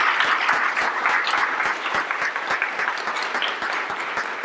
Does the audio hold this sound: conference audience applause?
yes